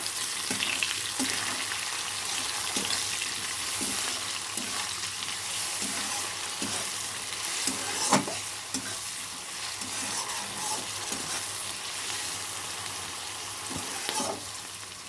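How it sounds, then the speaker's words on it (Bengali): Capsicum fries in a pan with rice added for fried rice, giving a steady broadband sizzle through the whole stretch, broken by repeated light stirring scrapes and a few sharper knocks of the spatula. "ক্যাপসিকামটা দিয়ে দেবো। ভালো করে ফ্রাই করে নেব।"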